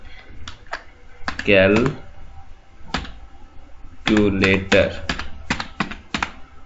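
Sparse clicks of a computer keyboard as a file name is typed, in uneven single taps and short runs, with someone talking between the keystrokes.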